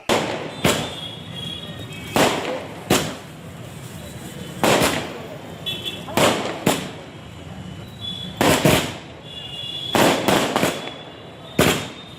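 Repeated sharp firecracker bursts crack out in irregular clusters, loud and close, at a welcome celebration, with a crowd murmuring faintly underneath between the bangs.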